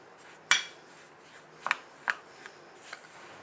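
Spoon working wheat flour and melted ghee together in a bowl for microwave kansar: a few distinct clinks and scrapes, one sharp knock then lighter taps, close and sparse.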